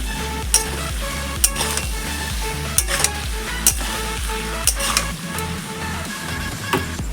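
Turmeric, cumin and other ground spices are stirred into a frying Bengali curry, with a continuous sizzle and regular clacks of a spoon against the pan; a low rhythmic hum runs beneath.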